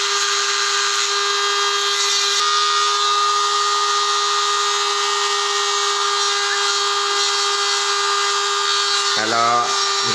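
A small high-speed mini grinder whines steadily, smoothing rough sharp edges on a metal tripod holder nut, a constant bright buzz that briefly shifts pitch near the end.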